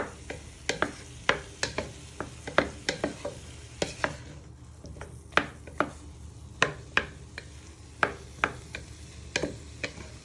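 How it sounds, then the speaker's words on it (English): Tomatoes softening in a pan for ratatouille are stirred with a utensil, giving repeated sharp scraping taps and clicks in an irregular rhythm over a low steady sizzle, close and moderately quiet with no talk. "So just give them a little stir in."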